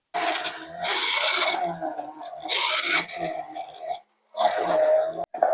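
Cashew nuts are blended with a little water into vegan mayonnaise, giving a close, coarse whirring blender sound in several bursts separated by short pauses.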